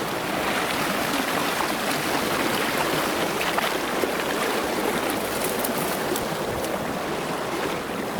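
A mountain creek rushes in a steady, dense wash of flowing water close by, continuous and unbroken, with no voices.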